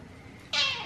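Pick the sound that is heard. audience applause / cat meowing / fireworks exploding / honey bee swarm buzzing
cat meowing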